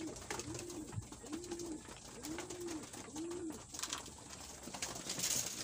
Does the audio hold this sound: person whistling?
no